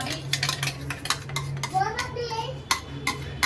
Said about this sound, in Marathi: खोबरा आणि कांदो बघा असं जरा मिक्स करायचं